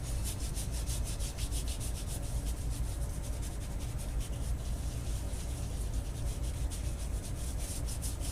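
Hands rub together quickly and steadily with pre-shave product before a shave, a close, continuous dry swishing friction that holds at an even level throughout with no pauses and no voices.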